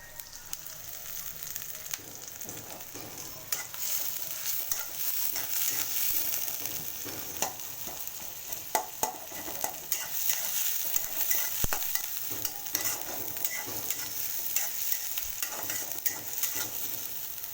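Chopped onions and green chilies frying in hot oil in a pan, a continuous sizzle with irregular stirring scrapes and clicks, fairly close and steady for the whole stretch, with no talking.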